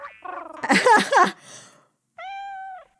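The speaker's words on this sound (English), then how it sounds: "What is that? A cat on a house? A fish and a cat." A cat meows in the video game Okami, with a short run of cries followed by a sustained, clear meow standing alone after a brief pause.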